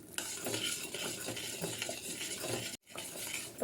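Thick beetroot halwa being stirred in a kadai, a steady scraping and soft sizzling with faint utensil clinks throughout, briefly cutting out near the end before resuming.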